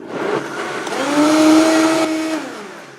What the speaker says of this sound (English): And then we just kind of blend this all up,